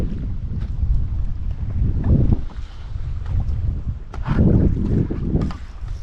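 Gusty wind buffets the microphone while kayaking on a lake in Glacier National Park, with low rumbling surges that rise and fall and peak strongly twice; water lapping sits faintly beneath, with no voices.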